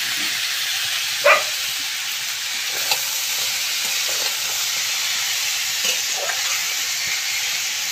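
Bottle gourd pieces frying in a pan over fried lentil dumplings, potato and tomato, giving a steady close sizzle and hiss with a few faint stirring knocks, no voices.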